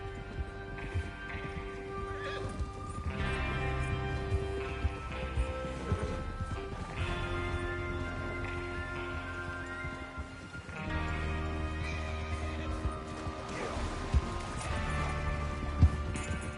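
Horses neighing and whinnying over clip-clopping hooves in the video game Red Dead Redemption 2, with a music bed running underneath throughout.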